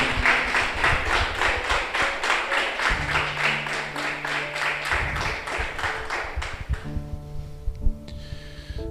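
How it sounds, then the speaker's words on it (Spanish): Congregation in a church service claps loudly and rhythmically in unison, with steady beats over organ or keyboard tones that emerge and sustain toward the end. "Dale un fuerte aplauso al Señor."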